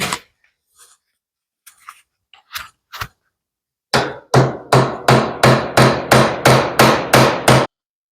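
A hammer drives a cut pin through an axle, a few scattered taps followed by a rapid, even run of about a dozen loud, close metallic blows.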